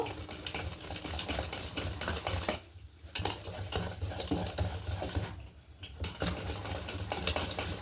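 Batter of powdered milk being stirred and mixed by hand for malai bora sweets, a steady scraping and stirring sound that runs continuously with two short pauses.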